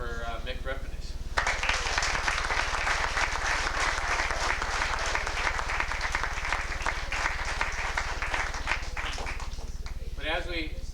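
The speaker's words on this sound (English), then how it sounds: "I just like to lead everybody in applause for Mick Repenish." Banquet crowd at a 1984 high school football team dinner breaks into sustained, dense applause after a voice, with steady hum beneath; speech resumes near the end.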